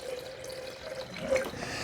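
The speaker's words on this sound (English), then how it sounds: "So fill this up to about the 4 cup mark" Liquid pours steadily from a tap into the glass carafe of a Cuisinart SS-16 hot and iced coffee maker as it fills with water and distilled white vinegar for descaling, a close, continuous watery rush without talk.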